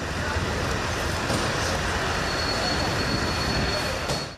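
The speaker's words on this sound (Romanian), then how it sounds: "De la Kiev până în sud-estul Poloniei, șeful Casei Albe a venit cu trenul." Train carrying the US president from Kyiv to southeastern Poland, a steady, loud rumble of rolling wagons with rail noise and a faint high squeal, continuous throughout.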